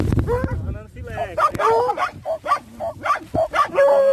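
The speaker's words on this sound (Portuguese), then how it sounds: "Cachorrinho aqui, cachorrada bateu no rastro aqui, ó." Hunting dogs bark and yip excitedly while working a scent trail after heavy rain, with repeated sharp barks and whimpers heard close by, mixed with someone talking.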